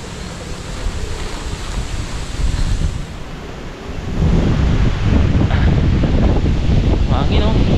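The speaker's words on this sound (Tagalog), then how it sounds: "Mahangin oh." Strong wind gusting outdoors near Tagaytay, a steady loud roar of buffeting across the microphone that grows heavier halfway through and holds.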